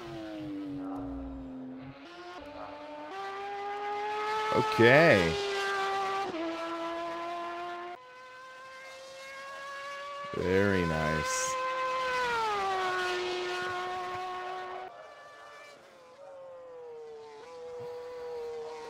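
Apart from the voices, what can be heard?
Porsche race car exterior engine sound, rFactor 2 video game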